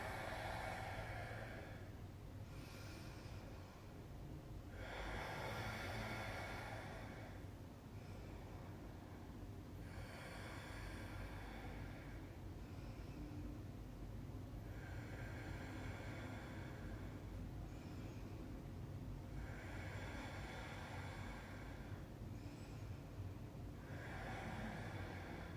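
Slow, deep breaths during a yoga bridge pose in a beginner power yoga session, each long inhale and exhale swelling as a soft, rushing breath about every five seconds over a steady low hum.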